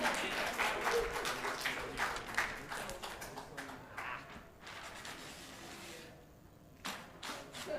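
Convention audience at a comic con claps in scattered, uneven bursts that thin out and stop, with a brief pause before a few more claps; fairly quiet and roomy.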